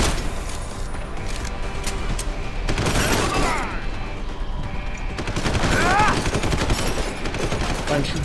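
Rapid gunfire bursts and clattering shots from the video game Deus Ex: Human Revolution ring out loudly and almost nonstop, with someone talking over the shooting.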